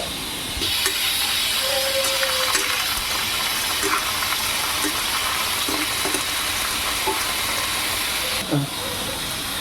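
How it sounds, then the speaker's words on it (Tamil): Mustard seeds and dal frying in hot oil give a steady, close sizzle and hiss, with light pops and clicks scattered through it, for a simple South Indian curry. "நான் எண்ணெய் காய வச்சு கடுகுல பருப்பு போட்டு"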